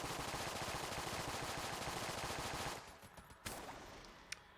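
Rapid, dense automatic gunfire from the video game Enter the Gungeon, a continuous loud stream of shots that cuts off after nearly three seconds, leaving a few scattered softer pops.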